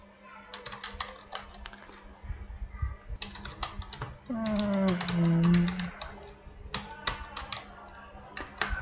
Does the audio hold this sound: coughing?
no